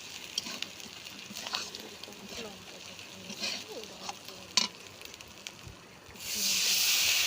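Chilli-powder masala for a shol fish kalia sizzles and hisses steadily in oil in a kadai, then water is added near the end, bursting into a loud, sustained broadband hiss.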